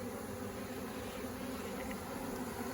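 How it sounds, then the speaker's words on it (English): Honey bees buzzing steadily at an open beehive during a package installation, a dense continuous hum close to the hive with no talk. "What about all the bees in here?"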